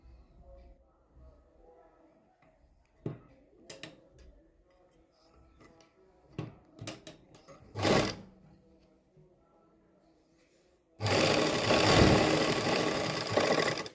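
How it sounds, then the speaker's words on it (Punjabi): Sewing machine stitching piping onto a suit: scattered quiet ticks and short mechanical bursts, then a loud sustained run of rapid stitching near the end, with faint speech in the quieter stretches. "ਪਾਈਪਿੰਗ ਦੇ ਨਾਲ ਨਾਲ ਆਪਾਂ ਸਲਾਈ ਲਾਵਾਂਗੇ"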